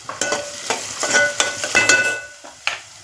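Sliced onions with a pinch of sugar sauté in a pan for a Sindhi sai bhaji, a soft sizzle broken by repeated scraping strokes of a spoon stirring against the metal.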